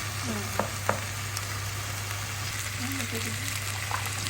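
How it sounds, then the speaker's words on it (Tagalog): Beef cubes sauté in a pan with a continuous close sizzle as they are stirred, giving a couple of faint scraping knocks near the start, and a low hum runs underneath. "Saka lang natin haluin pagkalagay ng ating beef cubes at gisa-gisa lang yan"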